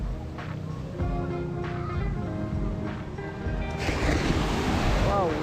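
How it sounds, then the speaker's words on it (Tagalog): Strong, high ocean waves surging and crashing onto a shore in Camarines Sur, a steady loud roar of surf that swells into a heavier, noisier break near the end, with people talking over it. "Ang taas ng ang lakas ng alon na sumasalpak dito."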